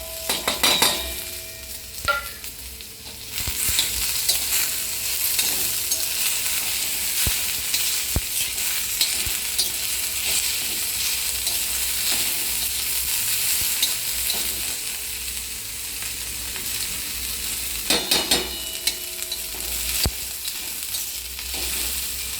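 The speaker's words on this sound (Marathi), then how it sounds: "कांदा टमॅटो मिरची पूर्ण भाजून झालेली आहे" Onion, tomato and green chili fry in a pan for an omelette, a loud, close sizzle that carries on steadily, broken by a few metal spatula scrapes and clinks near the start and again later.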